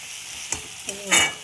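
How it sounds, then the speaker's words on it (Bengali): Spice masala for katla fish kalia fries in a pan, a soft sizzle with a few quick scraping stirs close up, the last one louder. "আমার এই মশলাটা কষানো হয়ে গেছে"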